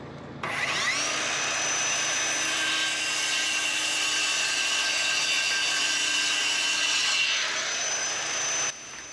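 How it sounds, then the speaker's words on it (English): A power saw set to a 10 mm depth runs across a wooden beam while a house is framed. It makes one long, loud, close whining cut that starts and stops abruptly, with no talk over it. "I'm just going to set my saw to 10 mil and run that across the beam multiple times"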